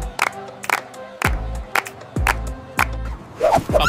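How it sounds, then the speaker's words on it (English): Cartoon shopkeepers applaud and cheer in a sudden burst of crowd noise, with sharp thumping impacts and rising shouts breaking through repeatedly over a few seconds. "Applause rises from nearby shopkeepers for AumSum's quick rescue."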